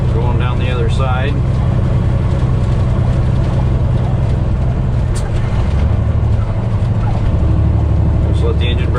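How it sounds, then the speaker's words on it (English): A truck's engine brake holds back the rig on a hill descent in a low gear, giving a loud, steady, deep rumbling drone with continuous road and cab noise, and a voice talking over it. "Just let the engine brake do its thing going down this hill"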